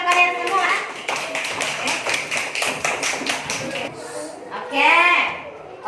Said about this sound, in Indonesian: Jadi tepuk tangan dulu untuk kalian semua.